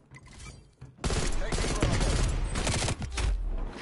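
Rapid automatic gunfire in the shooter game Call of Duty Cold War, a dense sustained burst of shots starting after a quieter opening second, briefly dipping before resuming close and loud.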